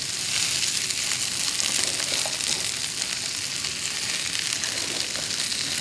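Raw zucchini and yellow squash fry in a hot pan, giving a steady, bright sizzle with crackling pops that carries on evenly throughout.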